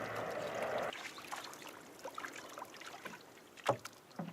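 A canoe-like boat gliding over wetland water, with faint paddle trickles and gentle splashes, quiet and close, one sharper splash near the end.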